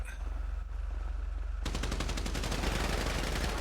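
Rapid automatic gunfire crackles in a video game gunfight on Cypress Flats, continuous and loud, with bursts that intensify partway through and run to the end.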